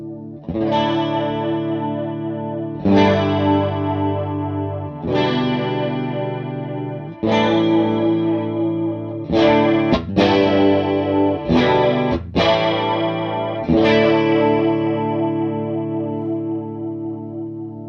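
Electric guitar strummed chords through an Empress Nebulus pedal in rotary speaker mode, a series of sustained, loud chords each ringing out alone with a swirling, modulated wash and no talking.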